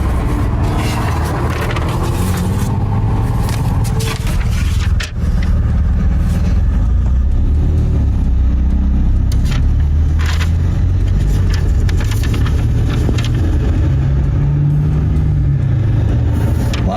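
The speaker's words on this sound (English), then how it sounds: "It's not because of your loud exhaust." A car with a loud exhaust runs up close, its engine droning and swelling with revs over a long stretch as a constant, heavy, gritty roar.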